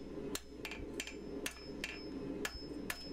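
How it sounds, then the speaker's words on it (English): Hammer blows on a blacksmith's anvil while a scroll for a broom handle is forged, about seven sharp metallic strikes at a steady, slightly uneven rhythm, close and clear over a low steady background hum. "Using the edge of the anvil to get into the corners where my hammer can't go."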